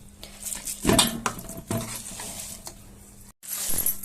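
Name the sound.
mixing rice mixture in a basin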